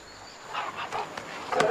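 A dog giving a few short, soft barks and yelps close by in a quiet room, fairly faint, with a slightly louder final bark.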